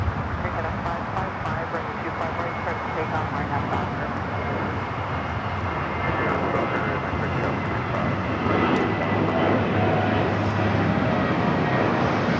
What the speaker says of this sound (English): Next takeoff is a flight heading to Phoenix, Southwest Airlines flight 969, 737-700